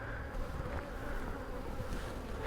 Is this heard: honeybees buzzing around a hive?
yes